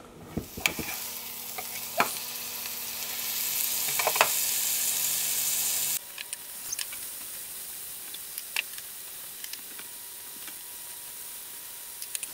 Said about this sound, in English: just place the tenderloin on this skillet. And so what I'm going to do is sear all of the sides of that